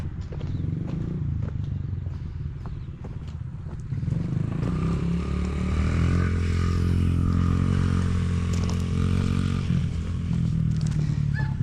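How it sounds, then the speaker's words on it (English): Agitator and pump on a Tow and Fert Multi 1200 running up close, a loud, steady mechanical drone and clatter that grows heavier partway through and holds a droning hum to the end. "that's the agitator running now. It's very noisy when you're up close when the pump's running."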